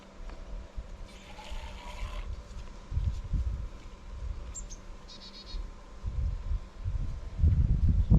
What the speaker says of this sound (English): I'm going to go ahead and use the injector in this bottle